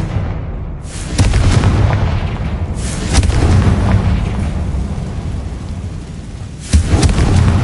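A fiery Confringo spell blast in Hogwarts Legacy gives loud, booming, thunder-like explosions, with a sharp crack near the start, another surge midway and a final burst near the end over a continuous rumbling roar.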